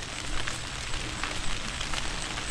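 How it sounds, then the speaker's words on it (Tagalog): Heavy overnight rain falls steadily outdoors on a farm field, a dense continuous hiss with scattered drop patter, fairly close and with no voices over it. "malakas yung ulan"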